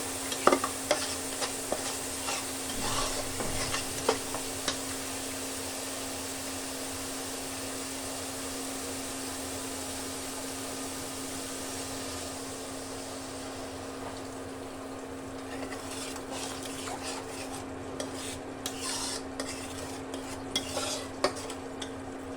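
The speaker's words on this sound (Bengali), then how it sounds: "মশলাটাকে একটু কষিয়ে নিই।" Spice paste stir-fried in a pan for a taro dish, a steady sizzle with frequent scraping and stirring clinks throughout, fairly quiet and close, without any talk.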